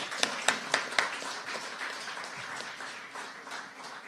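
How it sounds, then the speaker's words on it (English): Audience applause at a community forum in Sandy Point, starting with a few sharp claps and settling into steady, moderately loud clapping from a crowd, gradually thinning toward the end. "Let us give them a round of applause"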